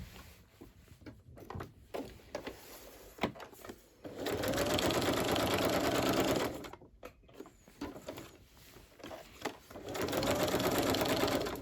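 A sewing machine stitching mixed-media fabric tags runs in two sustained whirring bursts, separated by quieter stretches of clicks and handling sounds, heard up close.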